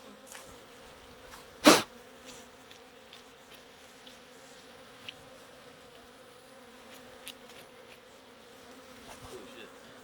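Honeybees hum around an open hive during an inspection, a steady low drone that holds throughout, with one sharp close burst near the start and faint scattered clicks over the buzz.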